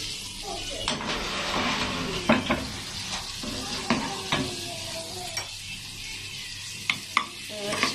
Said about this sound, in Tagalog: This one because too much hot, and we will put garlic.